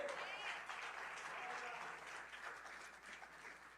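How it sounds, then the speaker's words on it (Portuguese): Church congregation applauding during a worship service, steady broadband clapping sustained throughout, moderately distant and fairly quiet, with voices mixed faintly underneath. "Aplauda ao Senhor."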